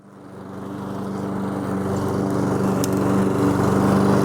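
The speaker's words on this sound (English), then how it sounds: "this mower's got a mulching blade on it, and it does a pretty good job on these leaves" A lawn mower fitted with a mulching blade cuts through leaves, its engine swelling from quiet to a steady, close roar that holds for several seconds.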